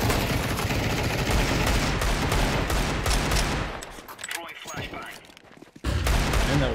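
Rapid automatic gunfire from a shooter video game bursts loudly and densely, breaks briefly into scattered shots and quieter game sounds, then resumes at full volume.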